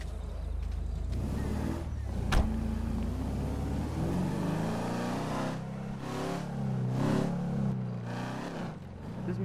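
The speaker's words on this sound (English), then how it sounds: "Like with the stock exhaust, you just hear the engine, you just hear a growl." Car engine in GTA 5 Online with a stock exhaust, revving and growling in a steady, fluctuating drone that swells and eases over several seconds, with no talking.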